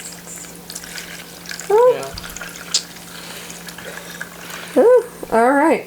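Liquid jello mixture is poured into a mold, a soft, steady trickle running under a low background hum while people exclaim and chat nearby.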